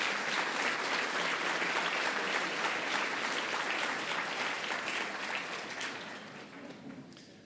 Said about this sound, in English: Can we have a round of applause for our public officials?